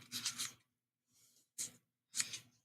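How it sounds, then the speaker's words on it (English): Small wooden pieces from a Rokr cuckoo clock model kit are rubbed with sandpaper in four short, close bursts of dry rasping strokes, separated by brief silences, with no talking. "Sand them while I'm here."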